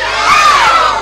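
An audience lets out a loud, sustained, piercing shriek in unison, imitating a langur's call, a dense crowd of high voices filling the whole second.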